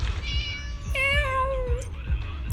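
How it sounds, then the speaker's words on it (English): A trapped kitten in a video game gives two plaintive, drawn-out meows, the second longer and rising, over a low background game soundtrack with no talking. "It's a trapped kitten."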